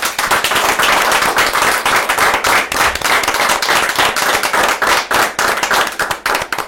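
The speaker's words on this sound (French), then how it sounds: "vous allez les applaudir" A studio audience on a TV show claps for guests, the sustained applause carrying a clear rhythmic pulse of hands striking together throughout.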